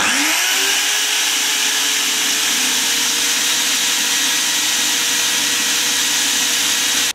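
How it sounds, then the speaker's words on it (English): A power drill spins bullets while a file is held against them to turn down their diameter. The motor spools up, then whines steadily with a harsh, constant grinding rasp, loud and close, for about seven seconds before cutting off. "I turned down by putting them in the drill and holding a file against them"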